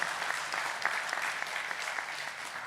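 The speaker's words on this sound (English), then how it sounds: "Another round of applause." Audience applause at a LAWASIA law conference session, a steady dense wash of clapping from a crowd that holds at an even level throughout, with no voices over it.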